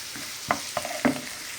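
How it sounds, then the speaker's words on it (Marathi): Chopped onion drops into hot oil in a pan, giving a few short bursts of crackling sizzle over a steady frying hiss, close and moderately loud. "आतां आमी तितून तो आनियन कट केलो तो घालया"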